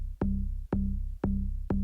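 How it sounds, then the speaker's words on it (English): Clean, pitched-down bass synth sample from the Vengeance Disco pack, four evenly spaced deep notes each struck with a sharp attack and held with a sustained low hum, alone and clear. "I think I actually ended up only using one synth sample"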